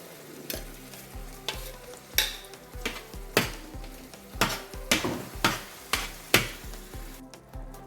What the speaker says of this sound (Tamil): இப்போ அரைச்சி வச்ச அந்த ஸ்பீனச் இதை ஊற்றிக்கிங்க